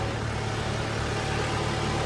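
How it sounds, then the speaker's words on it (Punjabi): A tractor engine runs steadily in fourth gear at about 1500 rpm, hauling a maize-laden trolley along a canal-side road, with a constant low droning hum and no talk. "ਟਰੈਕਟਰ ਚੌਥੇ ਗੇਅਰ ਮਾਂ 1500 ਚੱਕਰਾਂ 'ਤੇ ਜਾ ਰਹੇ ਆ"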